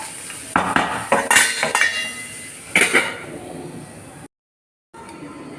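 Snake gourd and shallots with salt are stirred in a pan, giving a quick run of close metallic clinks and scrapes of a spoon against the vessel. A lid clanks on, then a brief dead silence follows.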